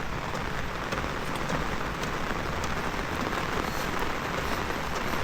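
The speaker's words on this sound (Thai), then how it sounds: "ฝนตก" Steady rain pours down continuously on a farm, a dense hiss of drops hitting surfaces, with no voices.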